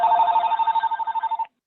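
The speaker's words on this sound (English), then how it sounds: "We're getting a telephone ringing." A telephone rings over an open microphone during a conference call on a lunar program, a loud rapid electronic trill with fast warbling pulses that stops abruptly.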